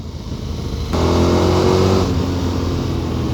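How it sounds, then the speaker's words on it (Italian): A KTM 1290 Super Adventure S motorcycle engine revs hard and holds around 5000 RPM, a loud buzzing drone with strong rough vibration, no voices. "tante vibrazioni a 5000 forti, si sente come ruzza forte sto motore."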